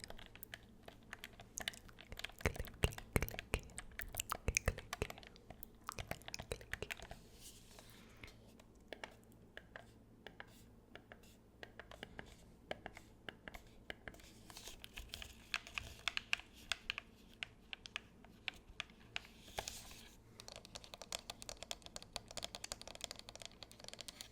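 Small plastic buttons and flippers on a toy are pressed over and over for ASMR, a close, quiet run of crisp clicks and taps in irregular bursts with no voice over them.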